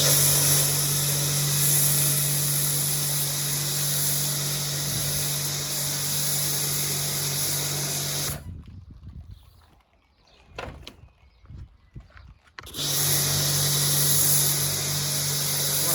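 A loud, continuous hissing spray of snow foam onto a Renault Wind, steady in tone, cut off for a few seconds by quieter clicks and rustling, then resuming just as strongly.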